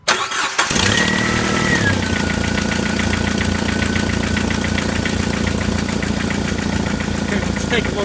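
A Jeep Wrangler's 2.5L engine cranks briefly, catches and settles into a loud, close, steady idle with a fast rhythmic knocking pulse.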